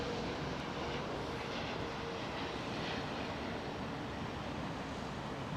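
An airliner taxis slowly toward a remote parking stand at London Heathrow after a long flight, giving a steady, fairly faint broadband engine roar that holds evenly throughout with no voices.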